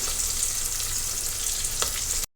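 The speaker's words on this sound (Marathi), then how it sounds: "मी पाहता कांदा आपला भाजत आहे व्यवस्थित लालसर आपण परतून घेणार आहोत कांद्याला" Sliced onion fries in hot oil for masale bhat, giving a steady, loud, close sizzle throughout, with a brief stirring scrape near the end before the sound cuts off abruptly.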